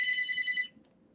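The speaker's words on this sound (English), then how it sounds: "And the phone rings, of course." A telephone rings in a single electronic trill lasting under a second, bright and fairly close, then cuts off into quiet room tone.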